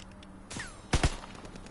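Gunfire in a military video game rings out as a sharp report followed by a quick double crack, punchy and fairly close, over a low ambient background with no talk.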